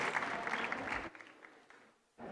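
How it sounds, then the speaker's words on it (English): A conference audience at an aviation panel session applauds the panelists. Loud clapping fills the first second, then fades to scattered claps and near quiet before noise rises again at the end. "I'd like a huge round of applause and a thank you for our panelists joining us here today"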